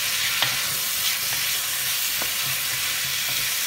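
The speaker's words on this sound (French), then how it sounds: "Hop, on remue." A chayote gratin mixture being stirred in a pan, with a steady sizzling hiss and a few soft scraping strokes of the spoon throughout, close and fairly loud.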